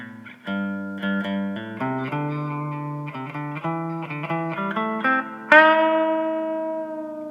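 A mint 1989 G&L S500 electric guitar on its bridge pickup plays a bright, twangy Strat-style riff of clean single notes and double-stops, closing on a loud, ringing chord that slowly decays.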